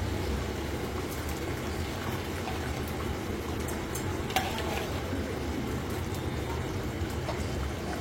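Prawn and drumstick curry bubbles in a pan with a constant soft sizzle and simmer, and a single faint clink cuts through partway along.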